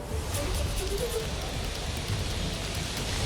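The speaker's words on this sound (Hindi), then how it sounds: "मानसून के अंदर पहली जोरदार बारिश, तेज हवाएं" Heavy monsoon rain pours down at Akshardham in Delhi amid strong winds, a dense, steady hiss of downpour on surfaces with a low rumble underneath and no voices.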